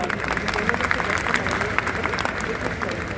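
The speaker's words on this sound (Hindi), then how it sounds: "जोरदार तालियां" Audience applause at a live Hindi stand-up comedy show, a dense, steady patter of many hands clapping for a few seconds with crowd noise mixed in.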